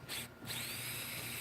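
A power drill fitted with a 1/8 bit bores into wood, a steady high whine with a short dip in pitch near the start, close and continuous with no talking.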